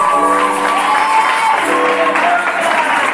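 A church congregation applauds and cheers for Jesus, loud continuous clapping mixed with shouts and whoops from a packed room, with voices calling out over the crowd.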